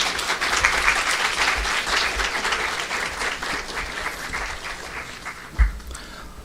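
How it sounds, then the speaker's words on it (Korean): A hall full of staff and members at a Kyung Hee Cyber University assembly gives loud, sustained applause to welcome the university president, a dense, continuous clapping that stays strong throughout, with a single thump near the end. "여러분 다시 한번 큰 박수로 총장님을 맞아주시기 바랍니다"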